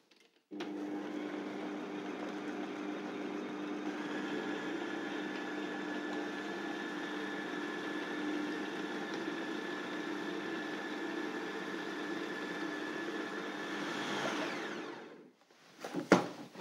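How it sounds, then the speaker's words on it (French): Blender running continuously on vegan steak ingredients, a steady loud motor whir with a slight pitch rise partway through, then winding down and stopping, followed by a short clatter. "C'est parti, on va mixer."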